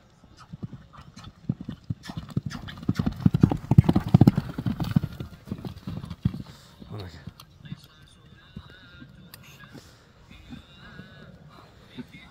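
A horse trots with a steady clip-clop of hooves, moderately close and strongest in the middle, while people talk over it and another horse whinnies faintly.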